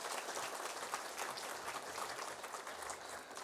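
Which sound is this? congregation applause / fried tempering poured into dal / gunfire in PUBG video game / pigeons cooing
congregation applause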